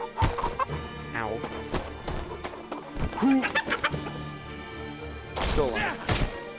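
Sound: chicken clucking

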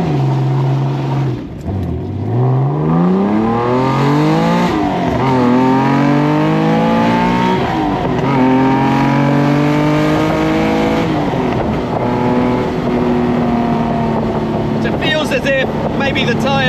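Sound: TVR Tuscan sports car driving and accelerating

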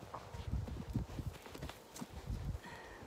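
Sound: horse walking, hooves clip-clopping

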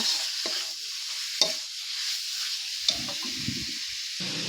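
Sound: chicken stir-frying in pan

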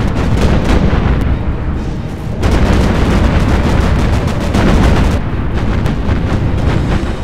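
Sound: airstrike by dive and torpedo bombers in Battlestations Pacific video game

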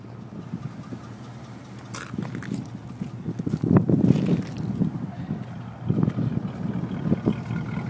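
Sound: 1987 El Camino small block engine running, new exhaust

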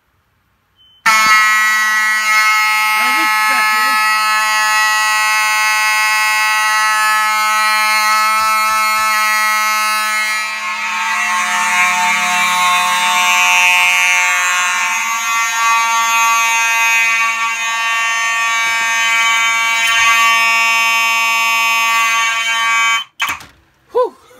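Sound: fire alarm mechanical horns triggered by ESL smoke detector test

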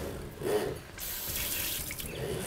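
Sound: tap water running into a kitchen sink

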